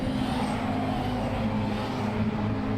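A race car, Andrew Jordan's number 77 in red, white and black livery, passes during Silverstone qualifying, a sustained engine roar with a steady tone, moderately loud throughout.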